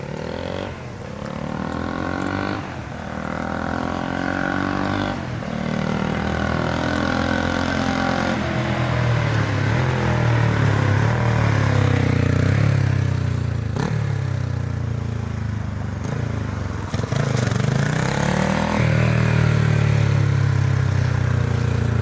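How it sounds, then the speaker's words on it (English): A 1974 Honda CB450 motorcycle engine runs steadily and loudly up close, with a continuous throbbing note that rises and falls with throttle changes throughout. "This bike runs better than any other CB450 that we've had in the shop."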